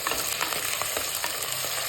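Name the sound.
shallots, curry leaves and green chilies frying in a pan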